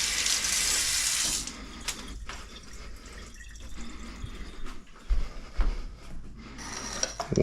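Tarragon is rinsed under a running kitchen tap, a bright hiss of water for the first second and a half, followed by quieter drips, shakes and handling noises with no speech.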